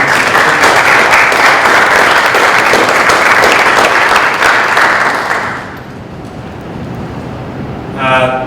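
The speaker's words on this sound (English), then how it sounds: "I think that deserves a round of applause" Loud, dense applause fills a school committee meeting for about five seconds, then fades to room noise with a brief voice at the end.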